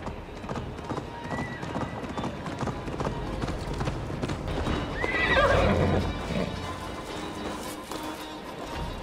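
Horse in a Viking-era action game, hooves clip-clopping at a steady gait with a sharp whinny rising midway, set against a busy outdoor ambience.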